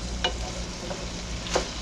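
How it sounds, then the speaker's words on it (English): Ground beef and yellow onions sizzle in a skillet for a spicy beef and cucumber dish, a continuous close frying hiss with a couple of brief stirring scrapes. "We're just going to drop in those nice yellow onions right there"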